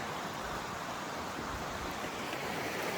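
River flowing beneath a hiking trail bridge in fall on the Appalachian Trail, a steady, close rush of water with no pauses and no voices.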